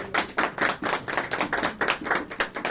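A group of children claps together in a quick, rhythmic burst, loud and close, with several claps per second in an uneven, lively pattern.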